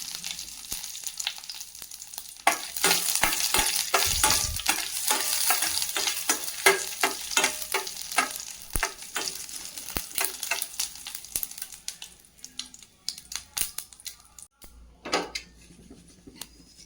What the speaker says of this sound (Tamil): கடுகு பொரிஞ்சோன்னா கருவேப்பிலை ஆட் பண்ணிக்கோங்க. ஒரு வரமிளகாய்,